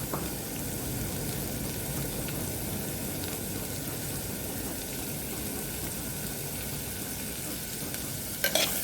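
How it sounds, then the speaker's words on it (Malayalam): Small green chilies with a pinch of salt are wilting in a pan on the stove, making a steady, even sizzle with faint stirring texture. Close and moderate in level, with a brief clatter near the end and no speech. "ചെറിയ പച്ചമുളക് ഇതൊന്ന് നന്നായിട്ട് തന്നെ വാട്ടിയെടുക്കണം"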